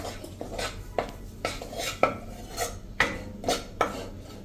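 A ladle clatters and scrapes against a pan as wheat flour is roasted and stirred over a medium gas flame for methipak, sharp metallic knocks landing roughly every half second to a second, close and alone.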